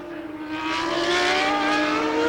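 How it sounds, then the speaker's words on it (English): Eddie Irvine's Ferrari Formula 1 car at the 1997 European Grand Prix qualifying, a high-pitched engine whine building and rising in pitch as it comes on track, loud and sustained. "Eddie Irvine on track. The Ferrari is out."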